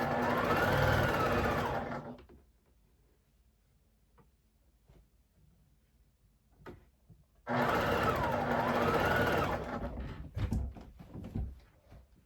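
A sewing machine runs in two steady bursts of a few seconds each while stitching quilt fabric pieces, loud and close, with a quiet pause and faint handling sounds in between.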